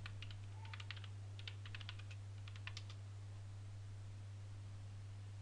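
Quiet bursts of computer keyboard typing as a Hadoop command is entered, three quick clusters of key clicks over a low steady hum, then only the hum remains.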